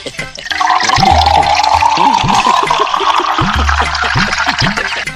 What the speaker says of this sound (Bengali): নে তাড়াতাড়ি মদটা ঢাল